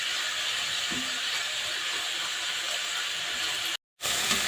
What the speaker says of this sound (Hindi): लाल नहीं करना है बस सॉफ्ट होने तक इसको तलना है